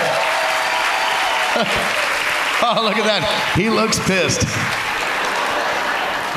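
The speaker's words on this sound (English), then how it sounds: "Give this couple a huge round of applause." A cruise ship audience at a Newlywed Game show applauds a long-married couple, a steady wash of clapping throughout, with a voice talking over it partway through.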